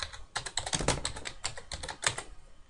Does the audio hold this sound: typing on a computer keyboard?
yes